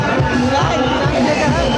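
A dense crowd murmurs and chatters steadily throughout, many overlapping voices forming a continuous hubbub at close range.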